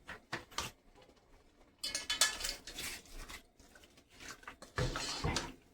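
Chopped tomatoes are stirred into lamb in a pot, giving bursts of close scraping, clinking and wet stirring separated by brief quiet gaps.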